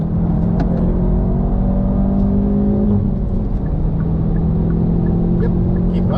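A Hyundai Veloster N engine pulls hard on the Nürburgring Nordschleife, a loud continuous drone and rumble heard from inside the car, with steady tonal whine and no speech.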